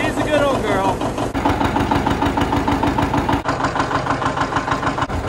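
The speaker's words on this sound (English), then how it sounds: "We're long overdue for a John Deere 730 diesel cold start." A John Deere 730 two-cylinder diesel tractor runs after a cold start, a loud, steady, throbbing engine note with a rough pulsing rhythm close to the listener throughout.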